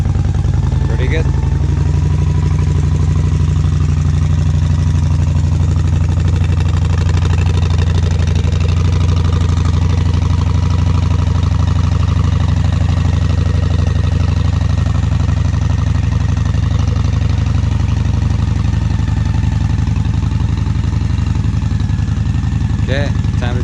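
A Honda Shadow 750 motorcycle engine idles steadily after starting, with a loud, even low rumble throughout and a few faint voices over it.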